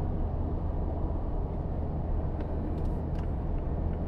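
A Mazda2 XD Sport Plus with a small-displacement diesel engine accelerates on a public road, heard from inside as a steady, loud low rumble of engine and road noise with no break.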